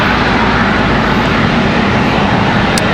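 An American Airlines airliner arriving from New Orleans at Charlotte Douglas airport roars loud and close, a dense unbroken jet engine rumble filling the whole moment.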